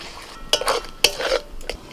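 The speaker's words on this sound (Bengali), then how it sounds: "মটরশুঁটিগুলো ভালো করে ধুয়ে এবার দিয়ে দিচ্ছি।" Washed green peas go into a pan of spiced yogurt masala and are stirred, giving several sharp metallic clanks and scrapes of a spoon against the pan over a light sizzle.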